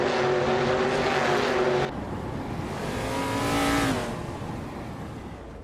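Racing cars in a video game race, including a 1971 Plymouth Road Runner, roaring past with steady engine drone that shifts pitch as cars accelerate and pass, loud and continuous with no voices.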